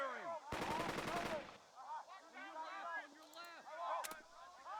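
Rapid burst of machine-gun fire from squads in the video game Burden of Command, about a second long, followed by someone talking over quieter game sounds and a short crack of fire near the end.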